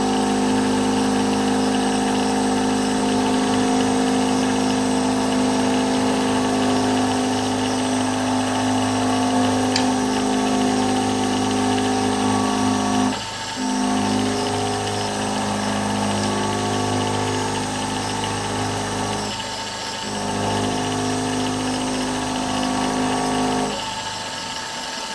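A spot drill grinds steadily into hard steel on a lathe, a sustained loud whirring machine drone with a steady hum that dips briefly twice before resuming.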